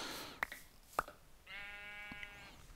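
Two short sheep bleats in the Minecraft video game, followed by a longer, steady bleat, all fairly quiet and heard alone with no talking.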